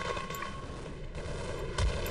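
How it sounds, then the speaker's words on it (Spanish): Gunfire rings out in the video game Half-Life as a dense, noisy rattle of distant shots and booms across the whole moment, with a heavier thump near the end. "tengo que ir a donde se oyen esos disparos"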